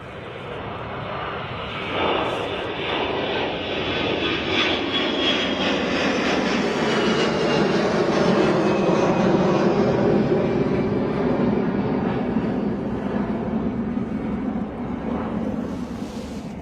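An airliner takes off in a crosswind at Bristol Airport, its engines swelling into a loud sustained roar that builds through the middle and then slowly fades as it climbs away, heard from a distance with no voices.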